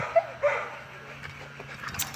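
A young dog working on a pole gives two short whimpering yips close by, then quieter breathy sounds.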